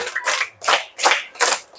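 Four rhythmic bursts of children's hand claps in a primary school classroom, evenly spaced and fairly close, each burst a cluster of many small hands striking together.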